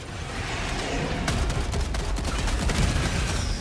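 Heavy cannon fire in the video game Helldivers 2 rumbles in a dense, continuous barrage, loud booming shots overlapping into a steady roar during a solo defence tower mission.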